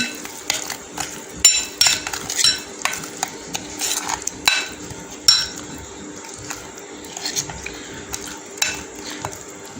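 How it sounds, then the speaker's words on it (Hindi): Spice mix stirred with vinegar in a metal bowl, with a spoon scraping and clinking against the sides in irregular close strokes and a faint sizzle in the background. "थोड़ा सा मैं इसमें विनीगर ऐड करूँगी। इसको मिक्स करेंगे, अच्छी तरह से मिक्स करेंगे।"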